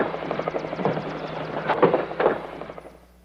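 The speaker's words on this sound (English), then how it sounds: "Choppers. And they sound loaded." Loaded military helicopters approaching, a rapid rhythmic rotor chop that builds louder toward the middle, with sharp impulsive bursts mixed in before fading at the end.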